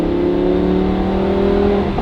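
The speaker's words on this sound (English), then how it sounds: "this is how your Huracan, whether LP580 or 610," Lamborghini Huracan LP610-4 V10 with an aftermarket exhaust and factory cats, revving in one sustained, loud, steady high-pitched drone held for about two seconds, with no pauses and no voices.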